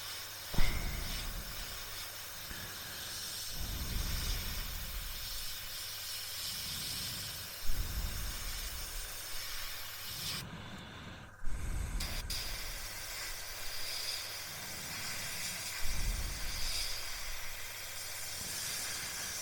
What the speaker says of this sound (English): this is again a really good way of mastering your airbrush control